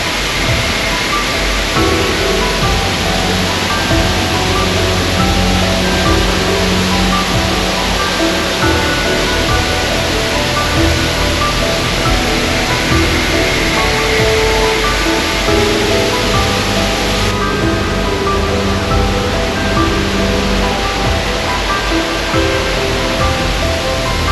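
The Meenmutty waterfall and stream at Kilimanoor roar loudly and continuously, a dense, unbroken rush of falling and flowing water with no voices.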